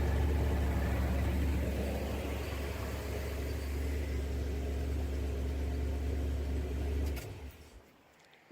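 An old car engine idles through dual exhaust pipes with a steady low rumble for about seven seconds before cutting away, with no talk over it.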